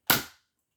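A single sharp gunshot from the Donkey Kong 64 video game rings out loud and close, a sudden crack that fades away within a third of a second.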